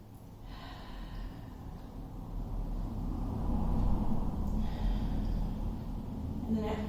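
Steady, breathy exhalations and inhalations during a Pilates class exercise, heard close as a continuous airy rush that swells in the middle and eases off, with no words spoken.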